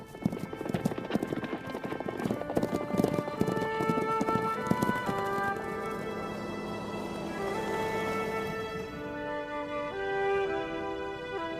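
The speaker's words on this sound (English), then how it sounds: "Herd instinct alone will keep a horse going, even one that lacks the fitness and conditioning required for a long-distance run." Horse hooves clip-clopping at a run on a racetrack, a steady rapid drumming with a brief neigh, set against a dense musical background throughout.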